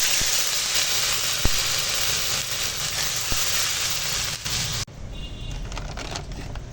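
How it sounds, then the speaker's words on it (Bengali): Onion fries with spices in a pan, giving a continuous close sizzle and hiss with a few sharp clicks. The sound thins abruptly near the end. "পেঁয়াজটা মশলার সঙ্গে ভাজা হয়ে গেছে"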